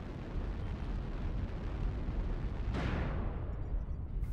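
A missile blast in a combat video game lands in a steady roar of low rumbling noise, with a sharp, bright burst near the end that quickly fades.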